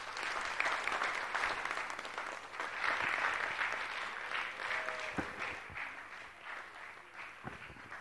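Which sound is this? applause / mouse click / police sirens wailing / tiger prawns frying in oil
applause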